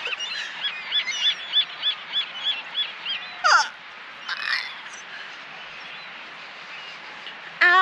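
Seagulls call on Santa Monica Pier by the beach: a rapid run of loud, nearby honking squawks, then scattered cries with one more burst at the end, over a quiet outdoor background.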